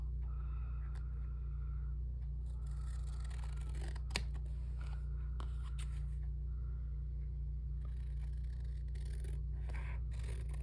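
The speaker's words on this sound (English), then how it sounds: "I'm going to trim it and come inside that other line as well" Scissors trim along a line with a few crisp snips and light scraping, quiet and close over a steady low background hum.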